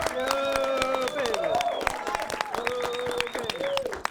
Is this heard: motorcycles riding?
no